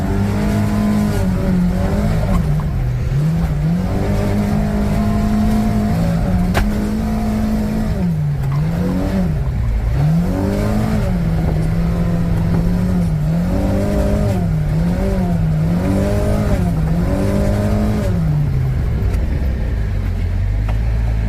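A Kawasaki Ridge side-by-side drives demo laps, its engine droning loudly and steadily throughout with rising and falling revs as it accelerates and eases off, close up and without talk.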